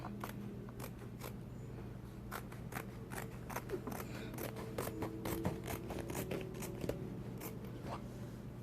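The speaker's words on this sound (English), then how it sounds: "So what I'm gonna do is I'm gonna just cut some strips of it." Scissors snipping denim into strips for tassels, a steady series of short crisp cuts repeating at an uneven rhythm, close but faint over a constant low hum.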